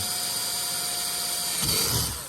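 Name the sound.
power drill drilling holes in a plastic kayak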